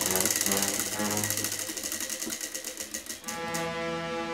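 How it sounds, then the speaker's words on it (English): A spinning prize wheel in a slime guessing game with dinosaur toys rattles out rapid clicks that gradually slow as it winds down, with a voice talking over it. "Spin that wheel!"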